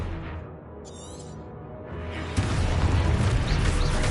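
A Confringo fire spell from Hogwarts Legacy goes off in a loud, sustained booming blast that swells partway through and stays heavy to the end, with a brief shimmering magical chime just before.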